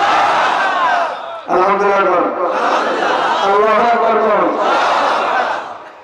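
A huge crowd at a religious gathering (waz) shouts back in unison after a takbir call, a loud sustained roar of massed voices rising and falling in chant-like waves before tapering off at the end.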